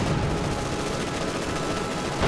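Sustained machine gun and rifle fire from a World War II battle in Company of Heroes 2, dense crackling bursts continuing without pause at steady loudness, with no talk.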